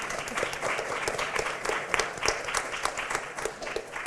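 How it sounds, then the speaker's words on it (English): An audience at a talk on women of influence applauds, with dense, steady clapping that holds even and sustained throughout. "it's just clapping"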